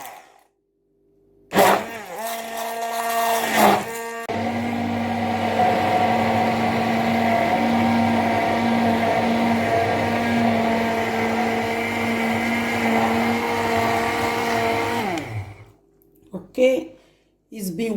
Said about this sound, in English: Of the hand mixer.